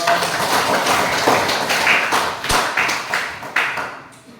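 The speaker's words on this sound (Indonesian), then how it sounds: "tepuk tangan dulu" Students clap in a classroom, a loose, uneven patter of hand claps and taps from a small group that thins out toward the end.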